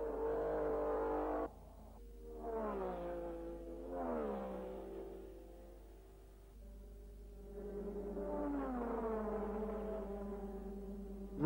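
Early-1960s Formula One race cars lapping a Grand Prix circuit, their engines heard at a distance in rising and falling sweeps as the cars come past one after another, with a brief lull midway.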